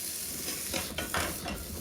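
Lardons sizzling in a very hot frying pan, a steady close crackling hiss with occasional louder spits and the scrape of stirring, no voices.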